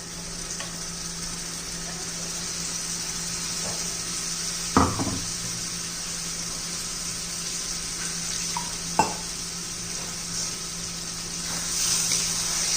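Stuffed brinjals dropped into hot oil give a steady close sizzle throughout, with a couple of sharp clinks of pan or utensil and faint stirring.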